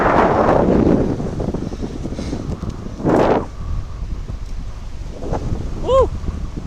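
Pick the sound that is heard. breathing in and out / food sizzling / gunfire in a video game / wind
wind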